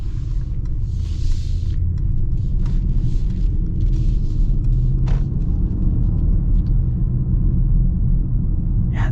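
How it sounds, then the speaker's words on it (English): A twin-turbo V8 in a 2024 Mercedes-AMG GLE 63 S gives a steady low rumble while driving, heard continuously and fairly close with faint road noise on top and no talk. "gotta love the sounds that come out of the V8. It just has this nice low rumble all the time"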